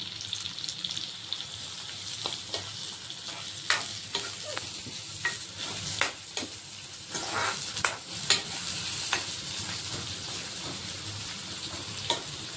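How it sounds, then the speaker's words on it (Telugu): Onions frying on a low flame in a pan, a continuous soft sizzle with intermittent scraping stirs and light utensil taps, close and quiet, with no talking. "ఆనియన్ లైట్ పింక్ కలర్ వచ్చేంత వరకు ఫ్రై చేసుకుందాం."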